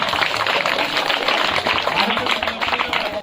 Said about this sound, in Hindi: बहुत अच्छा, शाबाश, इसको ताली बजाओ एक बार